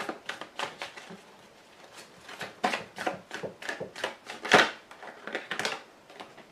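A deck of playing cards being cut and handled for a tarot-style reading, giving a busy run of soft riffling, flicks and taps with one sharper slap near the end.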